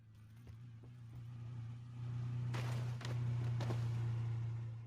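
A car engine hums nearby in a battle royale video game, its low drone rising and holding steady with a few brief thumps over it.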